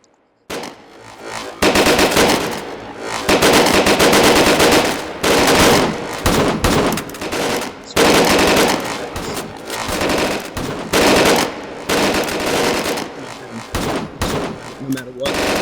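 Full-auto gunfire in the VR shooting game H3VR, loud sustained bursts of rapid shots with brief gaps between strings, close and dense throughout.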